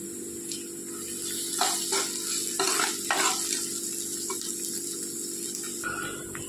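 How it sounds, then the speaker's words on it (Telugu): Ginger garlic paste with onions and green chillies sizzles in a pan for a dry fish tomato curry, a steady close frying hiss punctuated by several scraping strokes of a spoon stirring it. "హాఫ్ టేబుల్ స్పూన్ అల్లం వెల్లుల్లి పేస్ట్ వేసుకొని వేయించుకోవాలి."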